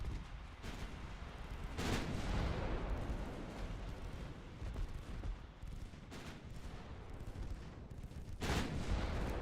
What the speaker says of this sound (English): Let's give them full broadsides.